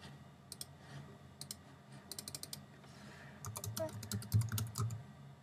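Typing on a computer keyboard to name a new desktop folder, quick bursts of close, crisp key clicks with short pauses between, over faint room noise.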